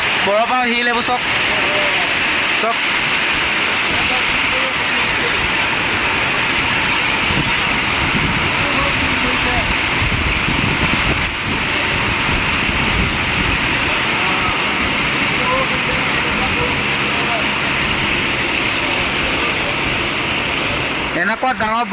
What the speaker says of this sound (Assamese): এনেকুৱা ডাঙৰ বৰষুণ, গোটেই বৰফ পৰিছে